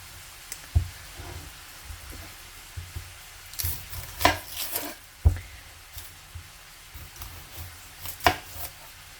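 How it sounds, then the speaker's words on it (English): Irregular knife taps on a cutting board while chopping onion, pepper and mushrooms, close and fairly quiet, with uneven clusters of sharp strikes and soft squishy cuts. "I have to chop my onion, pepper, and mushrooms. So I'll do that while we talk."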